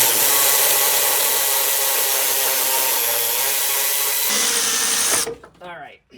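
A power tool whirs loudly while removing a strut bolt on a 2007–2021 Toyota Tundra, a steady close-up mechanical whine that shifts pitch partway through, then cuts off abruptly near the end, leaving faint clattering.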